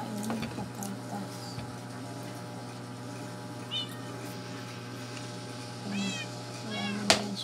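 A cat gives a few faint, scattered meows in a quiet room over a steady low background hum, with brief soft noises between them.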